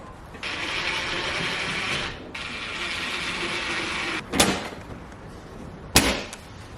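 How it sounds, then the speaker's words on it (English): Power drill driving screws into a plastic plumbing access panel: two sustained whirring runs with a brief pause between, then two sharp clicks, loud and close with no talking. "Let me screw up the 2 on the top."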